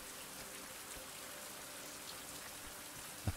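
Steady rain falls in a 16th-century survival video game, a dense even hiss of drops with a single soft thump near the end, faint and without speech.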